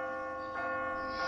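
A church-style bell in The Walking Dead video game rings with a sustained metallic tone, two fresh strikes layering over the lingering resonance at moderate loudness, no talking.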